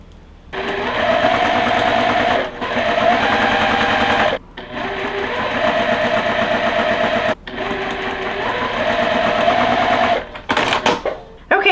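A sewing machine stitches quilt block pieces together for a back porch quilt block, running in long loud sustained bursts with brief pauses between seams.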